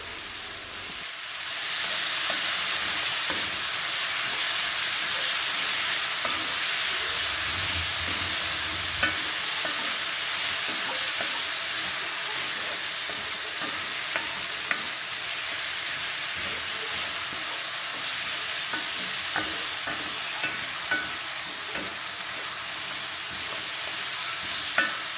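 Jalapeños sauté in a breakfast skillet with a steady, close frying sizzle that runs throughout, broken by small pops and occasional stirring scrapes, with no one speaking.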